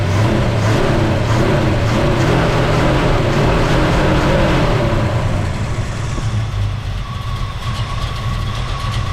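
A 1969 Pontiac Acadian SS with a non-original engine, long tube headers and motor ignition drives on a test run, giving a loud, steady engine drone with road rumble that eases slightly toward the end, and no talking.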